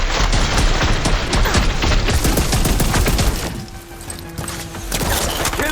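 Gunfire in Horizon Forbidden West's Burning Shores battle: a loud, dense burst of rapid shots and crashing impacts for two seconds, thinning into scattered blasts and lingering rumble, with a brief tonal hum, then another swell of fire.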